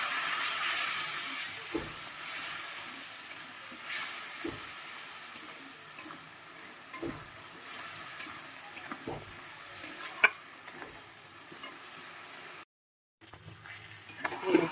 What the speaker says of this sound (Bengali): লঙ্কা গুঁড়ো দিলাম, জল দিয়ে কষিয়ে নেব।